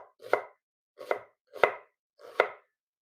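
Knife chopping an onion into a half-julienne cut on a board, four crisp, evenly spaced cuts about half a second apart, close and clear with no talking.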